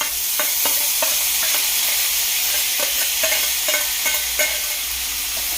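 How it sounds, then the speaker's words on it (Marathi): Spiced tempering for sprouted moth beans sizzles steadily in hot oil, a bright continuous crackle punctuated by regular clicks of a spoon stirring in the pan, close and fairly loud with no voices. "इकडे छानपैकी तडका बसलेला आहे"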